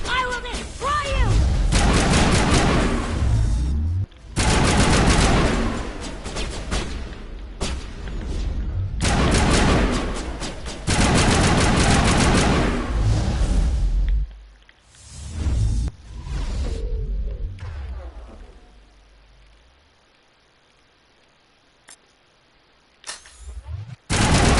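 Heavy gunfire and booming impacts in Mass Effect as enemies shoot through a wall, loud dense bursts for most of the stretch, then fading to quiet with a few sharp hits.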